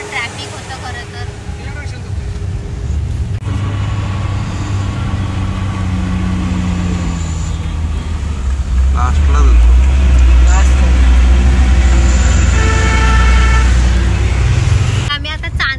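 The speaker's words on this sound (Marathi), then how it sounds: "इथे सुद्धा प्रचंड ट्रॅफिक आहे आणि खूप साऱ्या गाड्या एकमेकांना ओव्हरटेक करत जायचा प्रयत्न करत आहेत" Heavy traffic on the Khandala ghat road, cars overtaking one another as engines rumble steadily close by and several horns toot repeatedly, with voices talking over the constant din.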